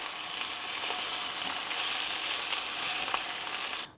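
Chicken searing quickly in a hot pan for a one-pan creamy Dijon dish, a steady bright sizzle and crackle of frying that holds for about four seconds before cutting off, with no talk.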